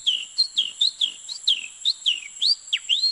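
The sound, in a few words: human imitating Amazon bird songs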